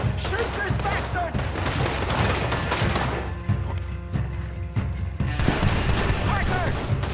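Loud, dense Red Dead Redemption 2 gunfire rattles almost nonstop in overlapping bursts and single cracks, while shouting voices are heard underneath.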